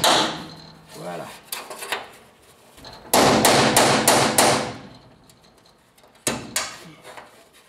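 A hammer drives a small chisel against a part of a Dyna Panhard X12 cabriolet, with sharp metallic taps that come in short bursts and clusters, close by, with a few quieter knocks in between.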